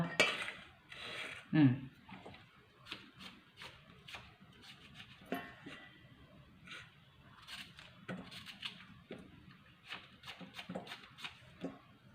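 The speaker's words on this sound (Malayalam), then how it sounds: "ഇനി ചേന അരിഞ്ഞുകൊണ്ടിരിക്കുക" Repeated sharp knife chops through elephant foot yam on a cutting board, irregular and close, with some clinking of utensils and kitchen shuffling.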